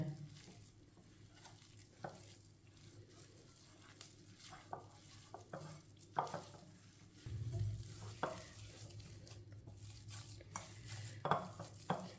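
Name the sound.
mixing raw minced meat for kebabs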